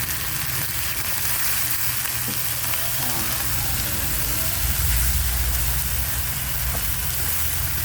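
Fried sardines with egg sizzle steadily in a pan while being stirred, a continuous close frying crackle with occasional faint scrapes and no talk.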